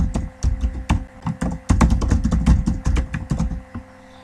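Someone types a name into an online form on a computer keyboard, producing rapid, irregular clicking keystrokes close by, with no talking over it.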